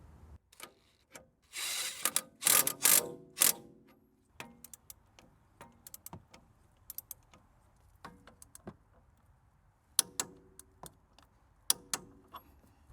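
A ratchet tightens a strut bolt on a Mercedes ML350 through 180 degrees, giving quiet, close, sparse clicks with a short busier burst of ratcheting early on, then scattered single ticks.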